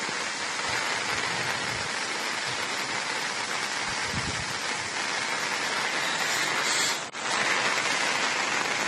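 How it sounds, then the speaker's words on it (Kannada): Continuous heavy rain in Kodagu, Karnataka, near the flooded Triveni Sangam at Bhagamandala pours as a steady, dense hiss with no pauses, close and even, with a brief dip near the end. "ನಿರಂತರವಾಗಿ ಮಳೆ ಬರ್ತಾ ಇದೆ"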